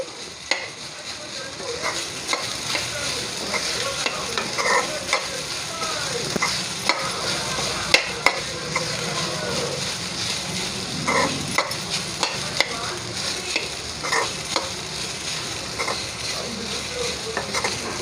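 Soaked sago pearls stirred and frying in ghee in a pan over a very low flame, with cashews fried earlier in the same ghee, making a steady close sizzle broken by repeated scraping strokes of the spoon, with no speech.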